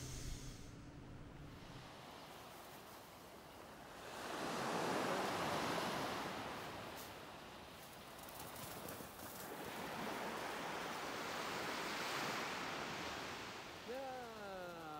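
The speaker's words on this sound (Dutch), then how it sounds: "En dan heb je hier de zee weer." Sea waves surge near a campsite on the Greek coast, broad swelling washes that rise and fall, with wind rumbling on the microphone and faint voices underneath.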